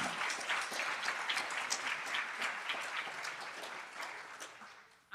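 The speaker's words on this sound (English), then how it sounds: "Let's honor them with a round of applause again." Sustained applause from an audience at a 2023 Salute to Education event honoring junior high and high school educators: dense, steady clapping for about five seconds that cuts off abruptly at the end.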